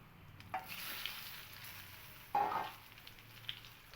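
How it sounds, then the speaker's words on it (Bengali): Panch phoron spices frying in hot oil for a light fish curry with ridge gourd and potato, a soft, close sizzle with a couple of louder crackling bursts as the spices are stirred. "খুব ভালো করে ফোড়নটাকে একটু ভেজে নেব"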